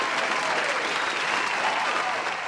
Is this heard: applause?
yes